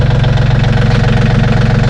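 A machine engine idles loudly and steadily close by in a garage workspace, a continuous low rumbling drone with a fast even pulse and no talk.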